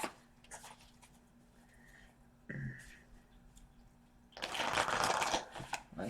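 Cards of an Angels and Ancestors oracle deck being shuffled by hand, soft riffling and sliding flicks that build to a louder, dense burst of shuffling near the end, with no voices.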